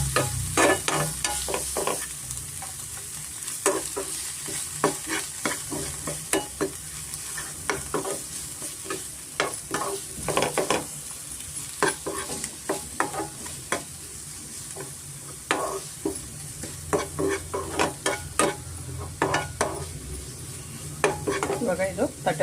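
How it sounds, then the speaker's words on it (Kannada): Green peas and ginger-garlic paste fry and get stirred in a pan for a spicy chicken keema side dish, giving a steady close sizzle broken by repeated scraping and clinking strokes of a spoon against the pan. "ಸ್ವಲ್ಪ ಬಟಾಣಿ ಫ್ರೈ ಆಗಬೇಕು ಮತ್ತು ಶುಂಠಿ ಬೆಳ್ಳುಳ್ಳಿ ಸ್ವಲ್ಪ ರಾಸ್ ಮೇಲೆ ಹೋಗ್ಬೇಕಾಗುತ್ತೆ"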